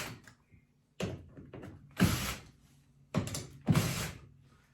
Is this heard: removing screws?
yes